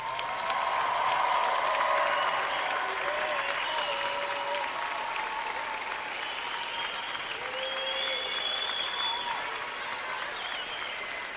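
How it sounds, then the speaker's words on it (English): Steady audience applause fills a nursing white coat ceremony hall for about eleven seconds, a dense, even wash of many hands that stays loud throughout and eases slightly toward the end. "let's give them one round of applause"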